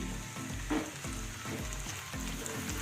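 Onion paste fries together with already fried onions in a pan, sizzling steadily with repeated scraping stirs at a moderate level and no voices.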